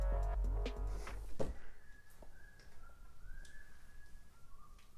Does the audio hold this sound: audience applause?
no